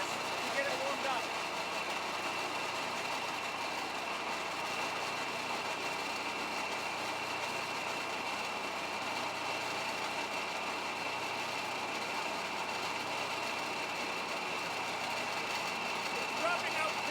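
A 220-volt pellet mill runs while pressing dry grass into pellets, a steady moderate mechanical hum and drone that holds evenly throughout, with a person talking over it.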